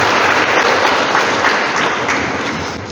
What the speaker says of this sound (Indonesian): Tepuk tangan untuk anak-anak kita.